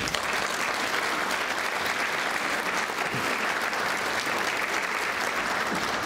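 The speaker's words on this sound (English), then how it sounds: "That deserves a round of applause too." Loud, sustained applause fills a hall during the Muscogee (Creek) Nation State of the Nation address, an even wash of clapping from a large audience lasting about six seconds.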